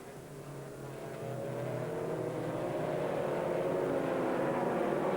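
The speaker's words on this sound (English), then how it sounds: "Chris Goodwin charging hard in the RML Saleen, trying to make up for the time lost in the pits" An RML Saleen race car at speed on an American Le Mans Series racetrack in 2001, its engine a steady, close drone that swells slightly louder and holds, with no talk over it.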